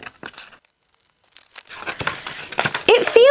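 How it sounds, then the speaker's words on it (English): Laminated paper backing on a diamond painting kit peeled back in short crinkling, tearing bursts, a pause of quiet, then denser rustling and crackle close to the mic. "let me see if I can peel this back at all."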